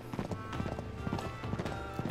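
Horse hooves clip-clop in a steady galloping rhythm in Uncharted 3, riding with a caravan convoy, close and continuous with faint game ambience underneath.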